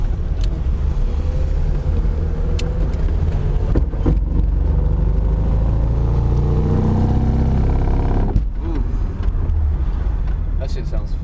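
A 1993 BMW E36 325is with a broken differential bolt or failing driveshaft bearing, its engine droning loudly and steadily up close with rising revs, punctuated by a few sharp knocks and clunks.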